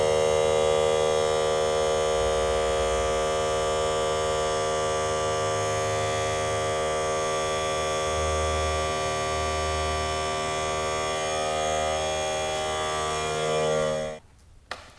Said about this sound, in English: this compressor only goes up to 100, whereas we really need more pressure for a longer duration